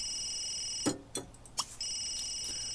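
A telephone rings in The Sims 3, an electronic trilling tone that pauses briefly and then resumes, broken up by a few soft game clicks and thumps and heard alone without speech.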